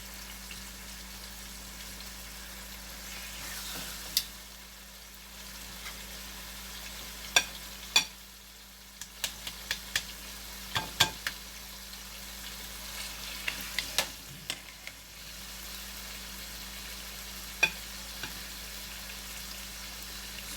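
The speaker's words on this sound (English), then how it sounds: "we want to brown up all our meat first before we get our vegetables in there" Oxtail pieces brown in a hot pot, giving a soft, steady sizzle with scattered crackles and pops, plus occasional stirring scrapes; fairly quiet and close, with no talking.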